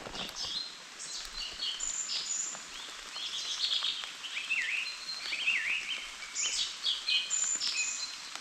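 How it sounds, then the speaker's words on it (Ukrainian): Birds sing and chirp steadily in the distance in May in the Lviv region countryside, overlapping trills and tweets over a soft outdoor hush, with no voices. "пташки співають."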